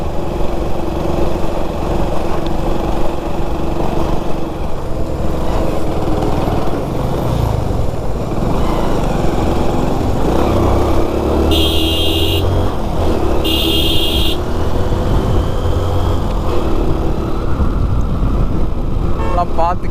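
An old two-stroke Suzuki motorcycle climbs a slope, its buzzing, high-revving engine steady and loud throughout, with two brief electronic beeps partway through.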